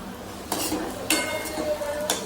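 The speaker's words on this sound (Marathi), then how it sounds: "चला आता भुर्जी घालता मी" Scrambled paneer bhurji tipped into a pan and stirred with a metal spoon, giving a few scraping, clinking strokes over a soft steady sizzle, close up and alone.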